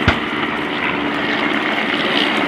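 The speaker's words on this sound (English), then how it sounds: "these two Dreideckers absolutely in amongst the British aircraft" WWI Dreidecker triplanes and an SE5A flying together at an air display, their piston engines giving a steady, loud droning roar throughout without talk.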